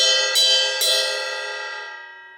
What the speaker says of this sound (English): Nice little ping sound, right?